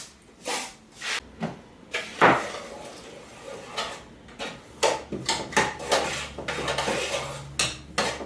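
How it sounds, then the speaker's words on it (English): Spoon pressing and spreading a cheesecake base in a baking tin, with a series of close, irregular scraping knocks and clinks of metal against the tin and crumbs, no talking. "using the back of the spoon, spread it out, push it down"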